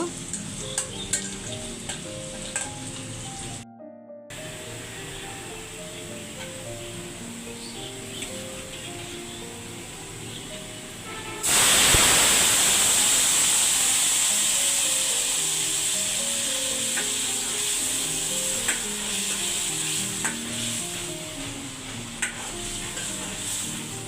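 Hot tempering oil poured into papaya curry lets out a sudden loud sizzle that starts partway through and slowly fades, after a stretch of quieter cooking and stirring noise.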